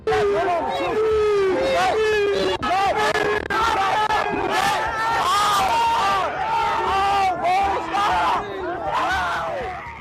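A huge, dense crowd yells and shouts around iShowSpeed, loud and close throughout, with overlapping bellows and cries forming a continuous roar.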